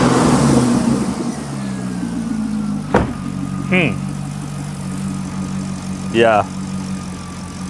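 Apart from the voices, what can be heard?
Chevrolet Corvette engine running and revving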